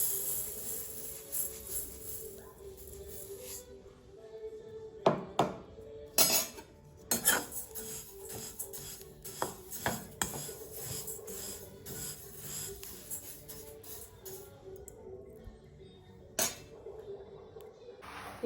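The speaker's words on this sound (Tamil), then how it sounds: "அடுத்ததாக நான் எள்ளை வறுத்து கொள்ள போகிறேன்." Sesame seeds dry-roasting in a pan for ellu laddu, with scattered utensil clinks and scraping taps against the pan over a low steady background, the knocks coming irregularly and louder in bursts.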